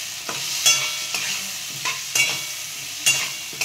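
Potato sabzi being stir-fried in a pan, with repeated sharp metallic scrapes and clacks of a spatula at an uneven rhythm over a soft, low sizzle, close and fairly loud.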